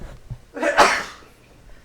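A single close sneeze bursts out after a brief intake of breath, then quiet background follows.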